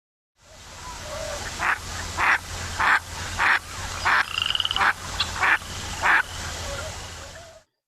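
Recorded bird song plays back during a birding lecture: a series of evenly spaced, harsh croaking notes repeating about every half second over a steady hiss.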